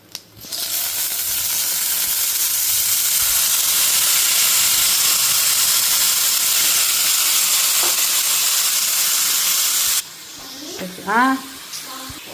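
Vegetable pieces drop into hot tempering in an iron pan, setting off a loud, steady hissing sizzle for several seconds that cuts off abruptly, followed by faint clatter and a brief voice.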